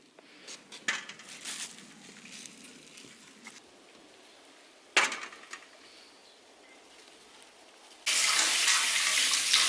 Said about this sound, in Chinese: 先把这个鸭蛋给它洗一下